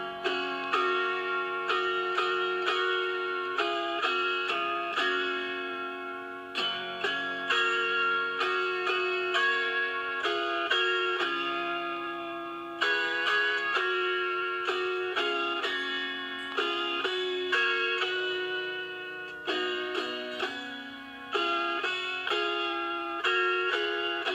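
An autoharp plays the whole Red River Valley song through, a continuous run of bright plucked notes and strummed chords in an even lilting rhythm, close and unaccompanied with no talking.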